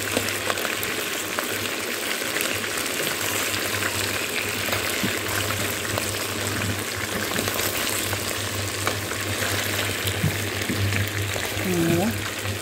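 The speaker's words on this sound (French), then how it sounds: "je suis en train de griller ma viande là maintenant" Fresh beef grills in a pan with a steady, loud, close sizzle and frying crackle that continues throughout, with a faint voice near the end.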